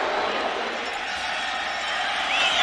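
A stadium crowd roars steadily at an NFL game as the Panthers complete a 92-yard kickoff return, a loud, sustained wash of cheering with a few claps mixed in throughout.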